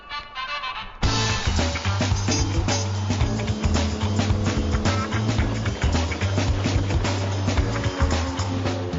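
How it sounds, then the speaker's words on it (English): Steady droning engine noise from a boat's old two-stroke outboard motors running continuously, loud and close, with a rattling, buzzy texture. "how much noise it makes with its old two-stroke motors"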